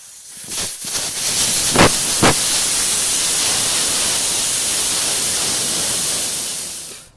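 A loud, continuous rush of air hissing out of a tire valve after a few sharp clicks, holding steady before tapering off at the end.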